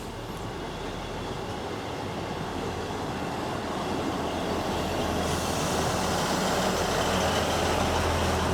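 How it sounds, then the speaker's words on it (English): Interior rumble of a train running to Ribblehead on a scenic English rail line, a steady low drone with faint rhythmic clatter, gradually growing slightly louder, no voices. "whilst I'm on this train to Ribblehead"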